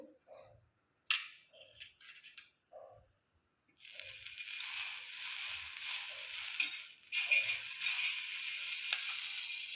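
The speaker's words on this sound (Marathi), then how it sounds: "आता तव्यावर थोडंसं बटर टाकू" After some quiet clicks and taps, butter on a griddle starts a crackling sizzle that continues steadily, loud and close, with a brief dip midway.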